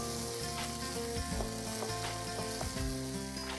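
Finely chopped tomato sautéing in a pan for misal, a close, steady sizzle and crackle of frying with occasional stirring scrapes, no talking.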